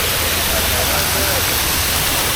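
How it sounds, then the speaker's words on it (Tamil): An indoor waterfall on an upper floor of a Bangkok shopping mall makes a loud, continuous rushing hiss of falling water that fills the space evenly throughout. "மாடியில் அருவி."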